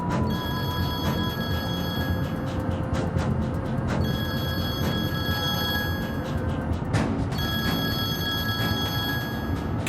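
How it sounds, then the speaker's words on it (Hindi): A phone rings with a bright repeating electronic tone in bursts separated by short pauses, heard indoors over a low background hum. "किसका फोन आ रहा है?"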